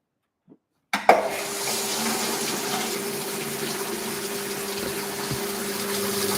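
A Simpson Esprit 550 washing machine gives a sharp click, then water gushes through its fill nozzle into the tub in a steady, fairly loud rush over a low pump hum.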